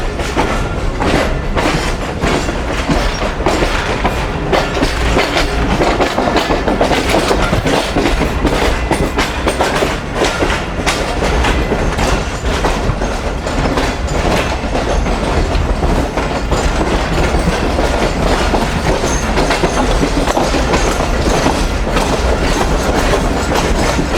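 Sukkur Express, hauled by an HM30 locomotive on its long rake to Karachi through hilly country, heard from on board as a loud, constant rumble with rhythmic clickety-clack of wheels over the rails.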